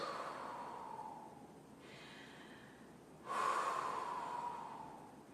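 Slow, deep breaths during a thoracic mobility drill: a long airy exhale, a pause, then a stronger breath that tapers off, close and fairly soft.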